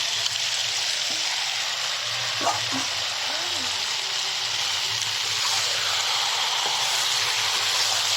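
Fried potatoes are added to a pan of chicken curry and stirred, giving steady, loud sizzling and frying throughout with occasional scrapes of a spoon against the pan.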